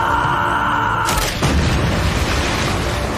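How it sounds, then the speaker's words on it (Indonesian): A bomb blows up, a sudden loud boom about a second in that fades into a long roaring rumble under dense background sound. "Bom pun harus meledak hingga tubuh John Han hancur berkeping-keping."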